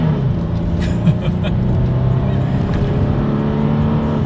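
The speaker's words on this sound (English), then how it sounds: "let's do a quick little acceleration test here in our 2021 Toyota 4Runner" A 2021 Toyota 4Runner accelerating from a rolling start, its engine droning loud and steady from inside the cabin with a rising tone.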